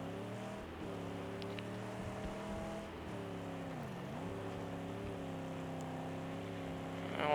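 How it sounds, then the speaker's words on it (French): Car engine in the Mad Max video game droning steadily with a freshly installed nitro, pitch dipping and rising as it revs, a continuous fairly quiet roar that surges louder at the very end. "on va tester une nitro qu'on vient d'installer."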